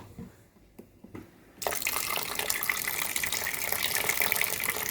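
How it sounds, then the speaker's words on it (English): After a few quiet clicks, water gushes steadily into a blender, a continuous close splashing pour with no voices. "I'm gonna fill in the blender with some water."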